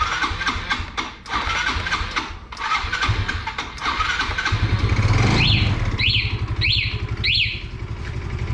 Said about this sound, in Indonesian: Nah kayak gini teman-teman suara mesinnya.